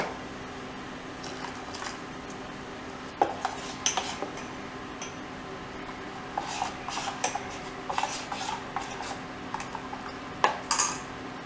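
A spoon stirring ground paste into curd in a bowl, close soft squelching and scraping with intermittent clinks of metal against the dish, no talk.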